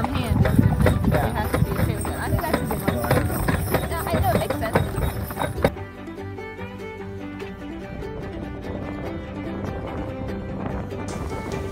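Several horses' hooves clip-clopping on a road in a steady rhythm, close and prominent, with talk over them before the sound thins to quieter hoofbeats.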